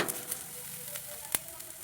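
Dried prawns and curry leaves sizzle and fry in a pan for a Kerala-style thoran, a quiet steady frying hiss with a few sharp stirring clicks.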